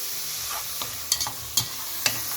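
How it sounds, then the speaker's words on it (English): Goulash meat frying on high heat in a stew pot, a steady sizzle with a few sharp clinks and scrapes of stirring scattered through, close and moderately loud, no talking. "Going to fry it on high heat for now."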